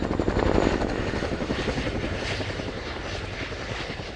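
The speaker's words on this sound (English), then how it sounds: "We all know the best noise in the world is that bit of blade slap" Loud RAF Chinook HC.5 helicopter rotor blade slap at an air show display, a steady rapid thumping over a roaring engine drone, with no voices.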